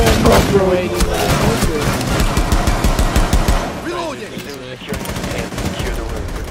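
Rapid automatic gunfire in the tactical shooter Rainbow Six Siege rattles in close, loud bursts, pausing briefly before more shots follow, with some background voice chatter.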